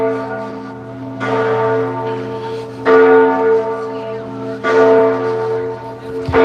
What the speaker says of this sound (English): There is a church close by here. You can hear that there's a bell ringing.